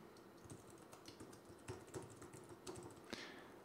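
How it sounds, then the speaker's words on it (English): Fingers tap out an email address on a computer keyboard, a quiet, close run of irregular key clicks with a few sharper strokes and no voices. "So I'm going to go ahead and type my PayPal email address in."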